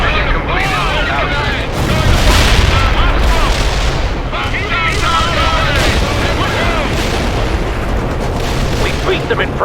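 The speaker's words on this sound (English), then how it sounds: "Artillery strike anywhere, sir. Target confirmed. Fire." Artillery strike in the World in Conflict video game, a long barrage of loud, overlapping booms and explosions that keeps rolling for the whole stretch, with occasional radio voices over it.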